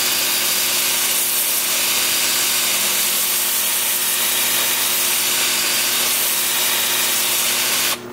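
A continuous loud abrasive rasp of sandpaper against wood spinning in reverse on a lathe at about 325 rpm, layered over the steady hum of a motor, cutting off abruptly at the end.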